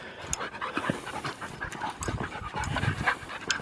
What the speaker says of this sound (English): Alright, dogs, don't be jumping on me.